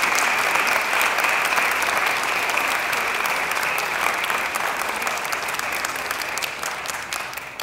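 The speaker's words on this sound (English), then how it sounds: "they deserve a huge round of applause" Faculty and staff at a university State of the University address break into steady, sustained audience applause that stays strong throughout and eases slightly at the end.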